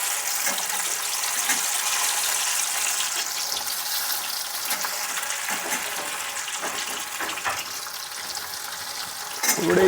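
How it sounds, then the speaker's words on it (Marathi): Jackfruit slices coated with salt and turmeric frying in hot oil, a continuous bubbling sizzle with soft stirring movements throughout, no voices. "मीठ आणि हळद हे आता आपण सोडणार आहे तेलामध्ये थोडे थोडे थोडे"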